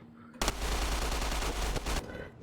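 Rapid sustained gunfire in a military video game skirmish against snipers, a loud dense burst of shots lasting over a second, close and harsh, with no talking.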